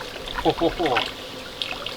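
Water trickling and splashing out of a portable camping water heater during overland truck camping, a short gurgling flow close by with a person talking over it.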